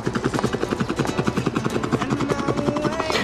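A voice imitates a helicopter, making a fast rhythmic chopping sound with the lips and throat, steady and close for a few seconds.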